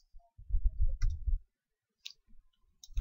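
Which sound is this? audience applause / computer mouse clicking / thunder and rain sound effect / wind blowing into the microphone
computer mouse clicking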